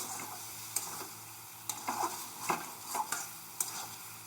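Taro bharta with Maggi masala stirred in a pan, a soft continuous sizzle under a spoon that scrapes and knocks against the metal at irregular moments, close and fairly quiet.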